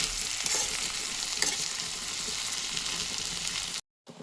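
A tomato mixture sizzles in a pan while being stirred, a steady frying hiss with scraping strokes, cutting off abruptly near the end.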